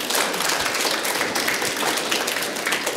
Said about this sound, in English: So round of applause to you guys.